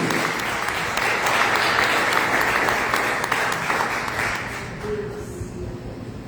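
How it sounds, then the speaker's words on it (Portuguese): A church congregation claps together in sustained, dense applause that holds steady and loud, then tapers slightly near the end. "Quantos podem adorar a Deus com palmas pela sua palavra?"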